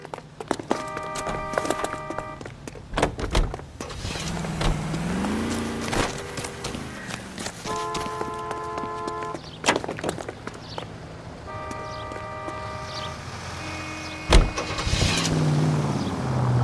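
A car driven in the video game L.A. Noire: a steady engine drone runs throughout, overlaid by sustained tonal chords that come and go, with a sharp knock near the end.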